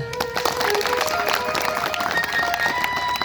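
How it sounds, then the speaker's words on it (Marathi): An audience at a kirtan on the life of Dr. Babasaheb Ambedkar and Ramabai claps together in a dense, fairly loud burst of applause that stays steady for a few seconds. "बाबांकडे बघून एकदा टाळ्या वाजवा."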